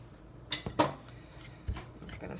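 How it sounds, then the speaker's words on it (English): A pastry blender works butter into crumbly paleo apple tart dough in a bowl, giving a few sharp metallic clinks and scrapes against the bowl, close and fairly quiet, with no talking. "now I'm going to switch to my pastry blender"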